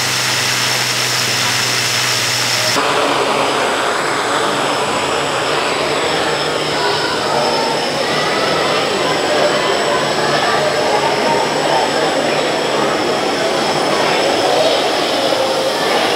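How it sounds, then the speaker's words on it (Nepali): A homemade drone built by a tenth-grade student buzzes with a constant high, whining propeller drone, loud and steady throughout, with a faint voice briefly underneath. "यति बेला मेरो हातमा तपाईँले ड्रोन देख्न सक्नुहुन्छ।"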